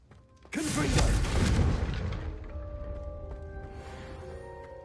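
A Confringo blasting spell goes off in the Hogwarts Legacy video game: a sudden loud burst with a crashing boom that rolls on for about two seconds, then fades into a softer rumble under steady electronic game tones.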